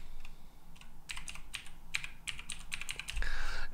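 Fingers tap at a PC computer keyboard in a quick, uneven run of light clicks, close and clear over a faint background hiss, with no voices.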